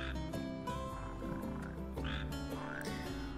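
Frogs croak continuously in the Final Fantasy XV game world near a slough, a dense layered chorus of deep, rhythmic croaks that fills the whole stretch at steady volume, with no talking.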